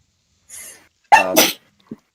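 A single close, loud human sneeze, preceded by a short sharp intake of breath and followed by a small sniff.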